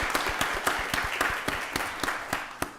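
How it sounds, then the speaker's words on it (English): Applause at a county board of commissioners meeting, a thin steady patter of clapping from a modest crowd with a few distinct sharp claps standing out, moderately quiet. "Let's give our new board coming in January another round of applause."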